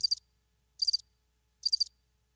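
Three short, crisp cricket chirps, each a quick buzzing trill, repeat at an even pace with clean silence between them, close and isolated.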